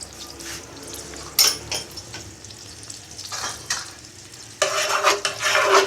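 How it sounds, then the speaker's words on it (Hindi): Spices sizzle in oil while being stirred for beef paya, ahead of onions going in, with close scraping bursts and a louder, steadier frying hiss toward the end. "ये थोड़ा सौते हो जाएगा।"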